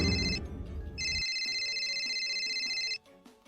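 A cellphone rings with a bright, steady electronic tone that plays for about two seconds after a short first burst, loud and close over faint background murmur.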